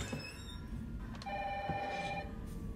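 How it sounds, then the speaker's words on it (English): Old-style telephone ringing in the survival horror game Resident Evil 3: a faint electronic ring with sustained tonal bursts over quiet ambient background noise, no talking. "Is that a phone ringing?"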